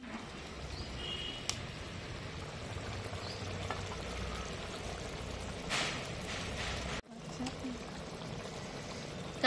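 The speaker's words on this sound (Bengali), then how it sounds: "গাইস দেখো আমি এখানে আলু ধুচ্ছি।" New potatoes being washed under a running tap, with a steady stream of water pouring and trickling close by, faint handling splashes and a quiet background throughout.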